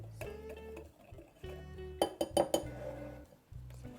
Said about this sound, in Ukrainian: Об'єднуємо борошно з розпушувачем, перемішуємо